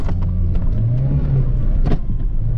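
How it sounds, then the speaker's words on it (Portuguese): Car engine revving and accelerating as the vehicle speeds away, a loud close rumble with rising tones and brief mechanical clunks, no speech. "Acelera, Felipe. Acelera, mano"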